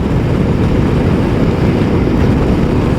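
Wind blowing hard across choppy lake water near a dam and marina, heard during a motorcycle ride in the Black Hills; a steady, loud, broadband roar of wind buffeting the microphone with water noise underneath, continuous and unbroken.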